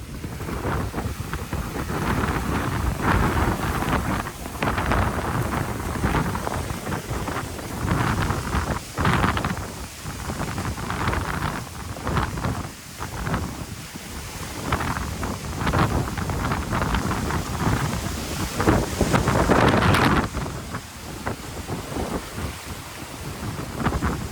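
Hurricane Helene's gusts batter the microphone in loud, rumbling surges that swell and ebb without pause, a continuous close roar of storm wind with no voices.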